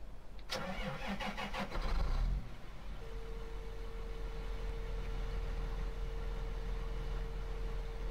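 A tractor engine starts up in Farming Simulator 2013, with a cranking starter rattle for about two seconds before the motor catches and settles into a steady, low idle hum with a sustained tonal drone.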